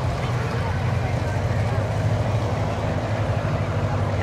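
A 1952 Massey tractor engine drives in a small-town parade among a row of Ford tractors, giving a steady, continuous low rumble throughout, fairly close and unbroken.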